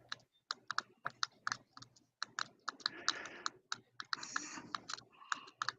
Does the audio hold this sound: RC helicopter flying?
no